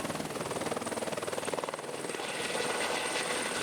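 A helicopter flies over Niagara Falls in winter, its rotor beating in a fast, steady rhythmic chop under a continuous engine drone, close and strong throughout.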